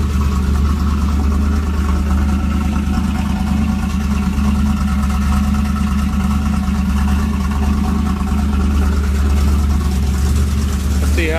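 A steady, rumbling LT1 Camaro engine with an aftermarket cam idles continuously at a slightly high, even pace, with no other sounds standing out.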